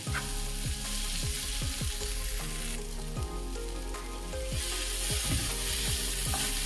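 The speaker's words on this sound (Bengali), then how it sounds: "মশলাটা প্রায় দশ মিনিট মতো আরও ফ্রাই করলাম এই যে টমেটোগুলো দিয়েছিলাম সেগুলো গলে গেছে" Spiced masala with melted, mashed tomatoes sizzles steadily in a pan after about ten minutes of frying, with repeated scraping stirs cutting through the constant close hiss; no voices.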